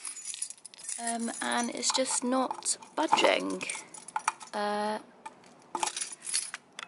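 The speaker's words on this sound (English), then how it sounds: "I've been using keys" Keys jangle and scrape against a stuck wooden bedside table drawer as someone struggles to open it. The metallic clinks come in repeated bursts under a woman's nearby speech.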